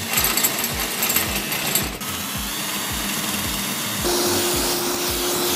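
A power drill bores holes into an aluminium awning frame for a mounting bracket, giving a loud, steady whirring grind with rapid rhythmic pulses and a shift in pitch partway through.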